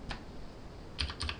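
Computer keyboard pressed for a Ctrl B shortcut while editing audio in software: one soft keystroke, then a quick pair of clicks close by, quiet and without talk.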